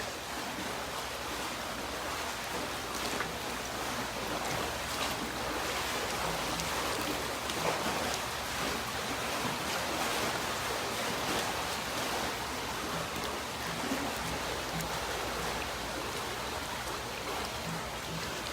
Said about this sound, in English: So right now that's at its top speed, and you can see that Ben is really swimming pretty hard against that current.